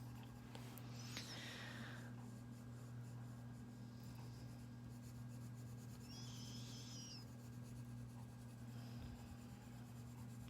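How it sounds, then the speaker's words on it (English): Close, soft scratching of a pen or marker writing a hashtag onto a drawing, steady and low-level over a faint background hum with a couple of brief squeaky sounds, and no one speaking. "In fact, maybe I'll write that on this drawing."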